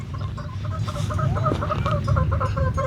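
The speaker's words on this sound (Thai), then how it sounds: "ไก่ชั่วโมงนี้นอนอยู่ไหนไม่รู้" Chickens cluck steadily and repeatedly at close range in a hot rural Thai yard, with a continuous low background hum underneath and no talking.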